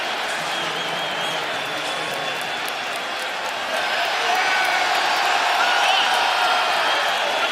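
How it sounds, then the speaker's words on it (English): Raptors fans cheer in a basketball arena as a steady, dense crowd roar with applause and whoops, loud and continuous, swelling slightly louder midway through. "I don't like to hear the fans cheering."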